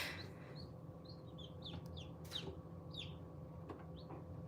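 Newly hatched chicks near an incubator chirp in soft, short, high peeps, scattered irregularly over a low, steady hum, heard faint and close.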